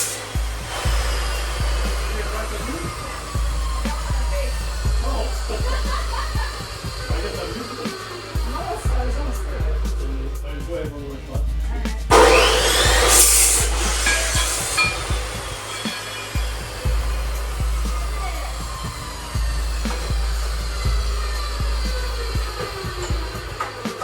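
A power tool cuts through a metal pipe while sparks fly, a steady loud grinding whine that runs nearly throughout with a brief harsher burst midway.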